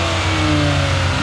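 A built, turbocharged Audi S3 engine free revs loudly and close by, a sustained mid-pitched roar holding steady for a short burst with no talking.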